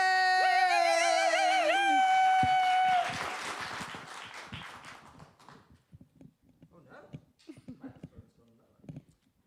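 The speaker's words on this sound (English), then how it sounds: "we're going to build the smattering of applause" A sparse smattering of scattered claps welcomes a performer on stage at a spoken-word event, following a few seconds of sustained tonal music and thinning into faint, irregular claps.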